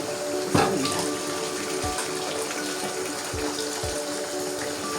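A steady stream of hot water gushes and splashes into a cooking pot of hilsa fish curry with taro, continuous and close, with a couple of low thumps underneath.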